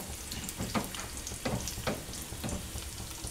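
Dried red chillies fry in hot oil for a Telugu dal with tamarind, giving a steady close crackling sizzle with a few sharper pops and stirring scrapes, no voices.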